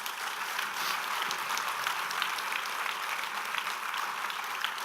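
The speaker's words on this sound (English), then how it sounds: "let's give John a round of applause too." Applause from an audience at a university awards evening, honoring a man named John: a continuous, fairly distant patter of many hands clapping at low volume.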